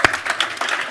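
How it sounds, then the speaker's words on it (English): A brief burst of audience clapping closing a session at the Cleantech for Europe Summit, a few distinct sharp claps heard close by over under a second. "Last round of applause."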